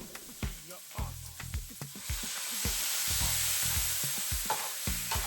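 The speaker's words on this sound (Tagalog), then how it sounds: "Cook the mushroom." Shiitake mushrooms stirred and frying in a pan, with repeated scraping strokes of a utensil over a steady sizzle that swells louder midway, heard up close without speech.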